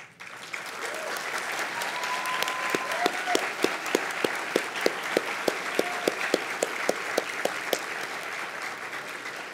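Audience at a graduation ceremony gives teachers a sustained round of applause, steady dense clapping filling the hall for the whole stretch, loud and continuous with a few sharper claps standing out.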